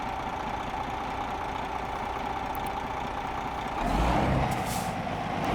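A DAF XD truck in Euro Truck Simulator 2 idles with a steady, loud diesel rumble, then the air brake releases a broad hissing burst near the end.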